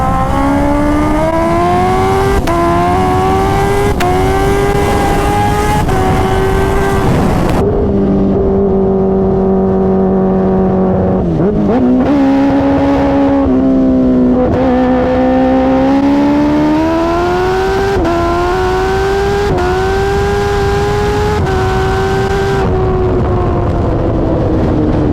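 A 300 whp Kawasaki Ninja H2 motorcycle accelerates hard, its engine howling loud and close and climbing in pitch through several gears, with a short lower-pitched lull midway before it pulls up through the revs again.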